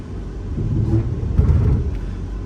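A Honda Civic with big brakes rolls along with dragging brakes, a heavy, low grinding rumble that swells and dips slightly, close by and steady, with no voices.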